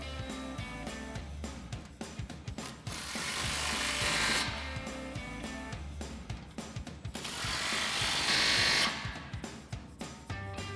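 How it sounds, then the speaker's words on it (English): An impact wrench with a 15 mm socket tightens exhaust clamps on the slip joints of a Borla resonator-delete X-pipe under a 2015-2023 Mustang GT. Two sustained rattling bursts stand out over lighter clicking and handling noise. "Next, we'll go ahead and fully tighten down our clamps on our slip joints here using, again, our 15 mil socket on our impact."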